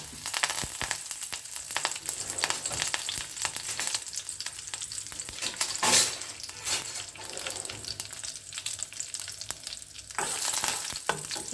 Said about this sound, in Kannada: ಎಲ್ಲವನ್ನು ಚೆನ್ನಾಗಿ ಒಗ್ಗರಣೆ ಮಾಡ್ಕೋಬೇಕು